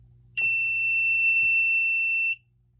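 A Silent Knight fire alarm system sounding during a test: one steady, piercing electronic tone, loud and close, holding for about two seconds before cutting off, with no talking.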